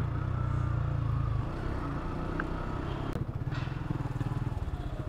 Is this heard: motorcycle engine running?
yes